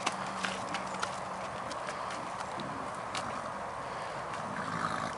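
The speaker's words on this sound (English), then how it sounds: "Haflinger team of mares." A team of Haflinger mares clip-clop steadily on hard ground, their hooves making a close, continuous rhythmic patter throughout.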